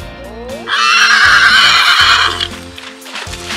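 A pony lets out a loud, drawn-out whinny close by, rising and wavering for about two seconds, with a low background rumble and light movement sounds around it.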